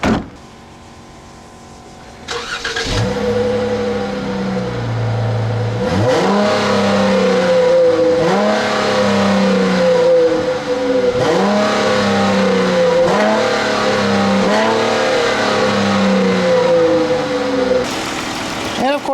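A 2012 Dodge Charger's 3.6-liter Pentastar V6 is revved about five times in close succession. Each rev rises and falls over a steady idle, close and loud.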